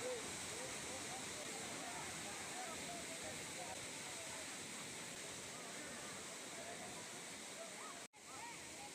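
A small waterfall at the entrance of Manal Aaru Falls, a hidden spot near Achan, pours in a steady, dense rush of flowing water that fills the whole span, close and constant, with one brief cut near the end.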